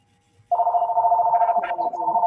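Telephone ringing in a room, a loud steady electronic ring starting after a brief pause and continuing without a break, heard nearly alone.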